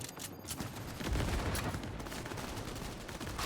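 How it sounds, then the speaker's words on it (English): Continuous loud gunfire from a boss fight in the Cyberpunk video game, a dense unbroken stream of shots aimed at the boss's mounted guns, heavy throughout with a thicker burst partway in. "You gotta shoot his guns off."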